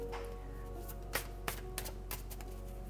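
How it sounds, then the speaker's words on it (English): Tarot cards shuffled by hand at close range, a soft riffling texture broken by a few sharp taps and snaps, quiet against a low steady hum. "Okay, too much shuffling, too much."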